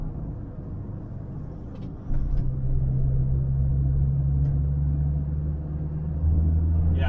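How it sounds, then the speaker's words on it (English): A car engine rumbles low at first, then jumps to a louder, deeper roar as it pulls under hard acceleration, holding a strong steady drone that rises again near the end. "Yeah, hard acceleration"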